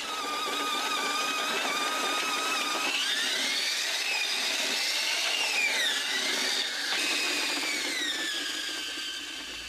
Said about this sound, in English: The miners are constantly drilling new holes for explosives, pushing their tunnel deeper and deeper into the ground.